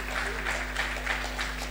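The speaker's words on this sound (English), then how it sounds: "I think you all deserve a round of applause" A round of applause from the audience at a stakeholder engagement forum, steady diffuse clapping throughout, moderately loud, with a low constant hum underneath and no clear talk.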